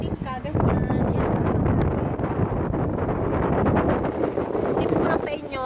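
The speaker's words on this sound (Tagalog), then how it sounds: "lalo na sa Ferris wheel, malakas ang hangin." Strong wind buffeting a microphone on a Ferris wheel at an amusement park, loud continuous rumbling gusts with a person talking underneath.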